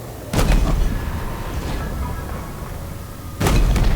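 Tank cannon blasts destroying a turret in Halo Infinite: two loud, sharp booms, one near the start and one near the end, with a rumbling battle bed between them.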